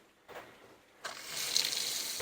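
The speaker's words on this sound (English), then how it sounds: "the kitchen sink is running, and we have water there too." Water runs from a kitchen sink tap in a cottage under renovation, a steady broadband hiss that starts softly then surges louder after a second and keeps flowing.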